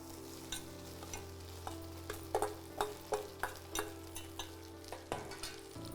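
Ground meal maker soya chunks sauté with onions in a pan for a veg keema: a soft, steady sizzle carries a series of spatula scrapes and taps in an irregular stirring rhythm.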